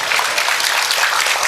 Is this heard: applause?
yes